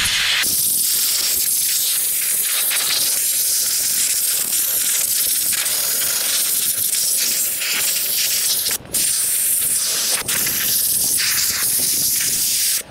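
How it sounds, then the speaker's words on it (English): Cleaner sprayed onto a Kraton EXB 6s RC car after bashing and jumping, a long run of close, loud hissing bursts with only brief gaps between them. "Give it a little spray."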